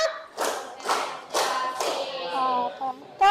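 Children clap a rhythmic class clap pattern in a classroom, several sharp bursts of group clapping in quick succession, close and loud, with a voice briefly between claps.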